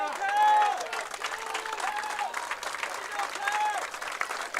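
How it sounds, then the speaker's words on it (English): A crowd applauding at a high school baseball sectional final between Mason and Loveland, steady sustained clapping from the stands heard at a distance, with a voice speaking over it throughout. "Rousing hand of applause here"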